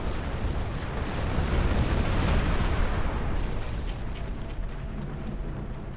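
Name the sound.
explosion in the video game Star Trek Online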